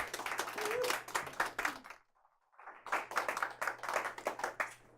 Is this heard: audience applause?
yes